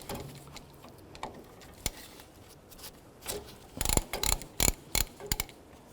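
A hand ratchet with a 3/8 or 10mm socket works the mounting bolts off a rear wheel cylinder on a 1997-04 Dodge Dakota. Scattered clicks come first, then bursts of quick pawl clicking, fairly quiet and close.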